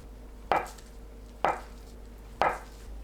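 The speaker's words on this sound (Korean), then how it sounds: "1cm 두께로 썰어주세요" A kitchen knife cuts a block of tofu into 1 cm thick slices on a board: three crisp, evenly spaced chops about a second apart, each a short thud with a quick fade, over a faint steady hum.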